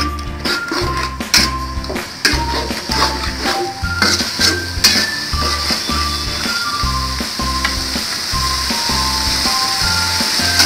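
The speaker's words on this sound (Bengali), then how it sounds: "মশলাটা ভালোভাবে কষিয়ে দিলাম" Spice masala paste with ground garam masala and onion paste sautéed in a pan for a Bengali chicken korma, giving a loud close sizzle and a rhythmic series of spatula scrapes and taps that settle into continuous frying.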